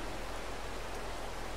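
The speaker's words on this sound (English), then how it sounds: "We'll skip to the morning, get rid of this rain" Steady rain falling in the video game Farming Simulator 22, a dense, even hiss of broadband noise that stays constant and fairly loud throughout with no talking.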